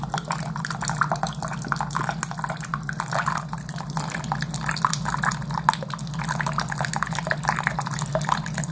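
Hot water flows and splashes steadily out of a portable water filter system with instant hot water, a continuous close trickling and dripping stream heard alone.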